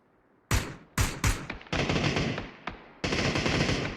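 Loud close automatic gunfire in a PUBG esports match, several sharp bursts separated by brief gaps, then a sustained rattling spray of rapid shots.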